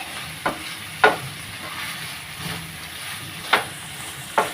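Vegetables for an instant vegetable pickle sauté in oil, giving a soft steady sizzle broken by four or five sharp scraping stirs of a spoon against the pan, with no voices present.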